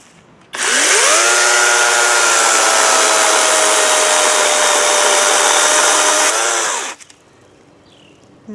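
A Kobalt 24 volt battery chainsaw cuts into wood, its electric motor whining loud and steady for about six seconds with a slight pitch dip as it bites, then winding down quickly to silence.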